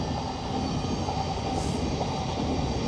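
A train rumbles past steadily nearby, its rolling wheels making a continuous low roar with faint metallic tones.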